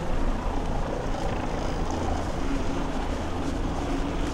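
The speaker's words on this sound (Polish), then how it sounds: "Wisi nad nami helikopter." A helicopter thrums steadily overhead in Kraków, its rotor and engine noise loud and continuous throughout with no voices.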